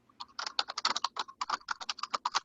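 Rapid clattering keystrokes on a computer keyboard, a fast irregular burst of sharp clicks close up, alone without voices.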